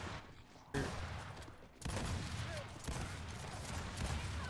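Dense gunfire from Gears 5 ranked free-for-all multiplayer, with loud bursts of rifle shots and heavy booms that hit at about 0.7, 1.8 and 2.9 seconds and then keep going as a steady, crowded volley.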